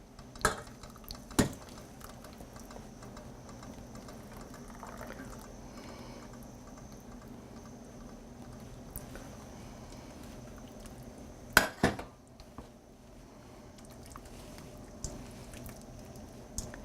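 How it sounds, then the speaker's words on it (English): A small whisk works through simmering soup in a pot in a home kitchen, making quiet swishing with a few sharp metallic clinks against the pot, near and otherwise faint. "Now here's where the little whisk comes in handy. And we're going to add it. To this, I have it just simmering."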